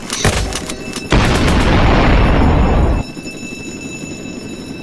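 Two video-game bomb explosions in an arrest-challenge match: a close, loud boom followed by a longer, heavier roaring blast lasting about two seconds, then a quieter rumbling background.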